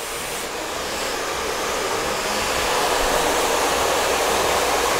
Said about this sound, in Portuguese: tá com o secador tão quente